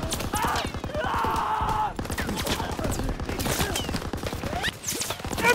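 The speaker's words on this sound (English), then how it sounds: "They're shelling that beach to shit!" Heavy gunfire and shelling on the D-Day beach in Call of Duty WWII: dense, rapid volleys of shots and blasts pound continuously and loudly with no break, with shouting voices mixed into the battle noise.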